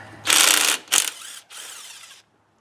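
A hand ratchet removes the pan bolts on a Turbo 400 transmission, giving three close, loud bursts of rapid clicking with brief pauses between them before it stops.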